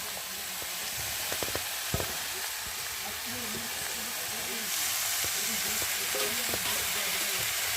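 Chopped bottle gourd frying in a wok for a prawn dish, giving a continuous hissing sizzle with a few sharp clinks of stirring near the start, growing a little louder toward the end.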